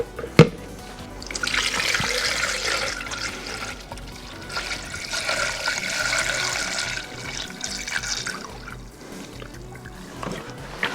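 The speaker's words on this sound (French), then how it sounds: "on va l'immerger et la faire tourner dans le liquide de refroidissement" A Peugeot/Citroën TU engine water pump, submerged in coolant, is spun by hand to prime it. A steady liquid churning and trickling swells and eases over several seconds, opening with a sharp knock, with no voices.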